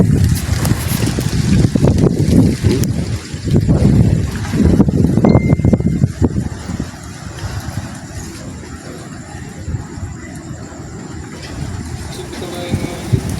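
Strong gusting wind buffets the microphone in loud, rumbling bursts during a storm, heaviest early and easing later, with voices talking intermittently underneath.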